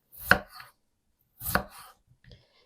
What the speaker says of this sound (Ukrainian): Я ось такими пластівцями десь по 5 мм нарізаю всю картоплю.